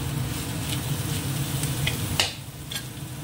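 Vegetables frying in freshly added oil in a pan, browning to a reddish colour: a steady close sizzle with a few scrapes and taps of a utensil, and no talking.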